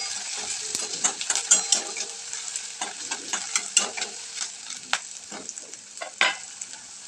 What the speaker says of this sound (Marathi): आणि दोन्ही पण ते छान असं परतून घ्यायचे तेलामध्ये.